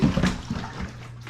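Water pours from a 3-gallon jug into the tank of a commercial ice machine, a steady, close gushing and splashing with no voices.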